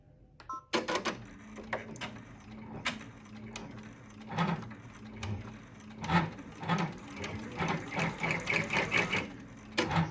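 An embroidery machine runs a digitized design while stitching incorrectly, with a fast mechanical needle rhythm, clacking and whirring, after a quiet start and growing busier and more pulsing toward the end.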